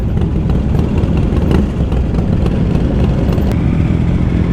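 Motorcycles ride off the Spirit of Tasmania ferry, a steady loud mid-pitched engine drone with clattering and revving from several bikes close by, no talk.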